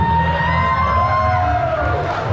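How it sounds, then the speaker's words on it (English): An audience claps and cheers at an open album rehearsal. A loud, continuous crowd roar is heard close up, with whoops and sustained whistling tones rising above it. "applause is great"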